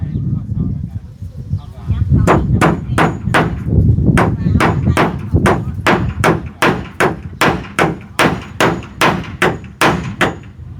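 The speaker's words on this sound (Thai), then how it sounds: "เวลาตอกตะปู" Nails being hammered by hand, first a busy stretch of knocking, then a run of loud, evenly spaced sharp blows close by, with talk at the start.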